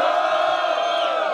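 Loud, sustained crowd roar of cheering, whooping and shouting at a Brazilian freestyle rap battle, the audience making noise to vote for a duo's third round, filling the whole moment without a break.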